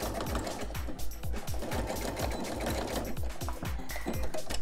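A sewing machine zigzag stitching over the raw edge of fabric for an oven mitt, running in a fast, even mechanical chatter of rapid needle strokes, loud and close with no talking.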